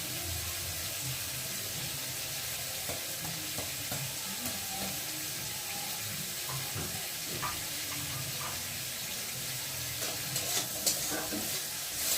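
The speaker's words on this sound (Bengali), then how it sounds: "এখন চিংড়ি মাছগুলোকে ভালো করে একটু ভেজে নেবো।" Prawns fry in a pan of oil, a steady close sizzle with occasional stirring clicks running throughout, with no talking.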